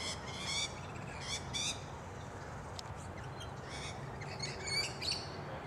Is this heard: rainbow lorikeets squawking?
yes